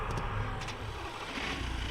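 A car engine in the Scum video game churns steadily as someone tries to start it, a continuous low mechanical rumble with faint higher ticks, close and fairly loud throughout.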